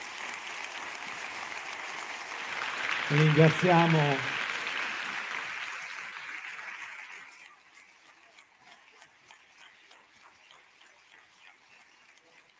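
Audience applause at an Italian public event welcoming Liliana Segre as she enters, a broad wash of clapping from a hall crowd, fading away after several seconds into quieter room sound as a speaker talks.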